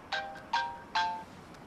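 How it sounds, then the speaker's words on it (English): A telephone rings in a scene from the TV show Jane the Virgin: three bright electronic ring bursts, evenly spaced and fairly close, then the line falls quiet. "Which brings me to the phone ringing."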